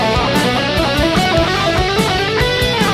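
A dense, driving passage with a steady beat and sustained harmonic lines, consistent with an electric guitar playing a solo phrase, loud and continuous with no talking.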